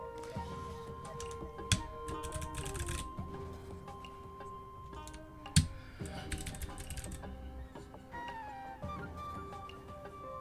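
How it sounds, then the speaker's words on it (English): A freshly cleaned computer keyboard being put back together, with dense plastic clicking and tapping of keys and parts, a couple of sharper snaps standing out, and steady faint background sound underneath. "We're putting together the keyboard, nice and clean."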